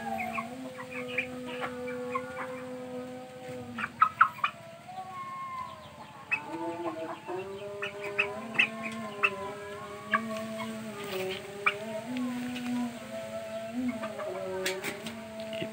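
Chickens clucking while sunbathing outdoors, a near, continuous string of soft clucks and short calls with a few sharper squawks, fairly quiet.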